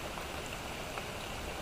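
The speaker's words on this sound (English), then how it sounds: "despite the fact that it's raining right now" Rain falling in the woods, a soft, steady hiss of drops pattering on leaves and ground, faint and even throughout, with no voices.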